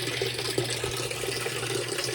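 Water runs through the inlet valve of an aging Whirlpool direct drive washer, making a steady hissing flow under a low constant hum, close and moderately quiet throughout.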